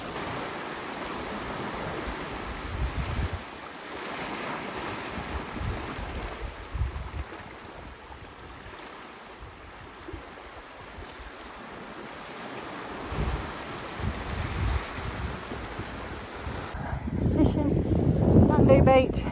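Incoming tide at Dundee Beach in the Top End near Darwin, with steady surf washing ashore and wind buffeting the microphone, a continuous broad rush that swells louder toward the end.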